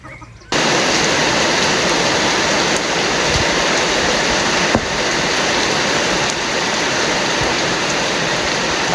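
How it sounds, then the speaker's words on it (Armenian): Rain falls steadily over a yard in the countryside, a loud, even roar of dense drops that starts abruptly and continues unbroken. "Անձրևը բռնեց սիրելի հետևորդներ ջան"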